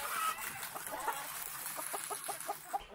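Hens and a rooster cluck near a farm coop in Erzurum, a run of short, rhythmic clucks close by, with a brief higher squawk mixed in.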